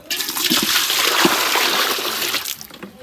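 Water poured in a steady, splashing stream for close to three seconds in a home kitchen, loud and close, with no talk over it.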